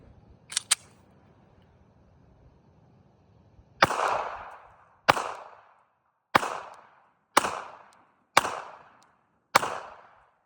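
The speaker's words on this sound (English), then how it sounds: "I'm gonna shoot from the kneeling position at a closer range to better illustrate the recoil impulse" Six sharp pistol shots from a Glock 28 chambered in .380, fired from a kneeling position outdoors, spaced about a second apart with short decaying echoes, loud and close after a few faint clicks at the start.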